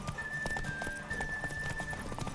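Horse cantering in the video game Witcher 3, a steady, rapid clip-clop of hooves close by over a continuous background hum, with no pause across the short stretch.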